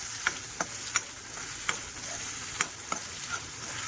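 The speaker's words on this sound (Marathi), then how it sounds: "आता छानपैकी वरती तेल येईपर्यंत चांगलं खरपूस भाजून घेऊया." Dry mutton lung masala roasting in oil, with a steady soft sizzle and sharp, evenly spaced scrapes of a spoon stirring the pan, heard close with no talking.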